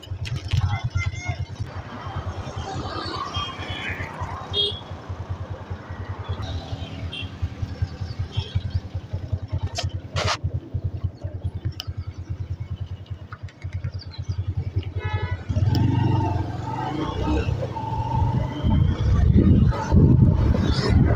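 A motorbike taxi carries a rider through Kigali streets, its small engine puttering and rising in bursts over steady wind and road noise, with surrounding city traffic and occasional voices in the background.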